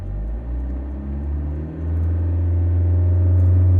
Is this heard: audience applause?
no